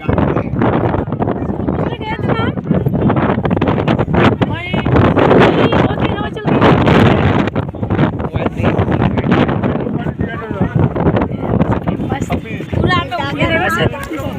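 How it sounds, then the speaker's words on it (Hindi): Strong wind blowing by the river on a trip from Rishikesh to Haridwar, a loud continuous buffeting roar across the microphone with people talking underneath. "क्या मस्त हवा चल रहा है।"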